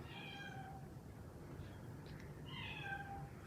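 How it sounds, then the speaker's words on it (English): A pet cat meows twice indoors, two drawn-out, moderately near calls separated by a short pause, over a low background hum. "Sometimes he likes to meow."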